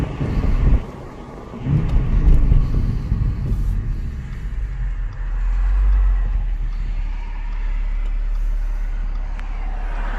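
Audi S5 supercharged V6 engine rumbling and building revs as the car accelerates, a loud, continuous low drone that swells and settles, with no talking.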